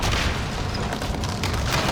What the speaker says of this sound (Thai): โอ้โหระเบิดเต็มหลังเลย